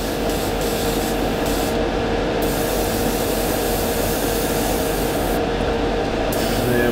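An airbrush lays down a heavy coat of paint, giving a loud, steady hiss that runs without a break for the whole stretch, with brief dips and surges in the spray.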